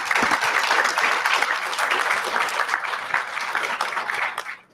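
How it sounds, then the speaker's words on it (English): Conference audience applauding panelists after an AI-in-testing panel at the STAREAST 2023 event, a loud, continuous burst of many hands clapping that tapers off near the end. "So let's give them a round of applause, please."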